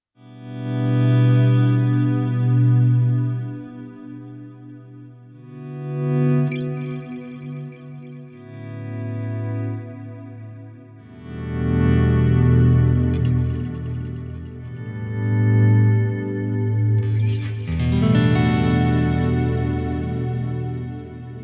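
Sustained guitar chords ring out through a Fractal multi-tap delay and Nimbostratus-style reverb, with repeating delay echoes and a wash of reverb, swelling and fading in long phrases.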